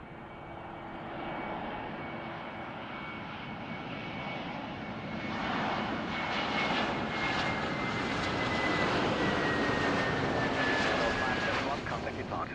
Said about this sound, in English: Thrust reversers on, spoilers up